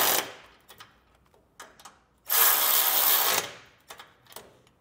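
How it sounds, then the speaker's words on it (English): A ratchet with an 11/16 socket running down carriage bolts while fitting a Curt front-mount hitch receiver on a 2018 Ram 2500. Short clicking bursts surround one longer, louder run of rapid ratcheting, close and with no talk. "For the carriage bolts, you wanna go ahead and run them down using an 11/16."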